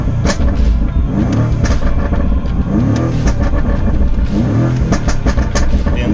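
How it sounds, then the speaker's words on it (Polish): A BMW M5 Competition in Sport Plus mode with louder exhaust settings revs repeatedly while parked, giving loud, close engine bursts that rise and fall several times. "Zaraz sobie go tu pogazujemy."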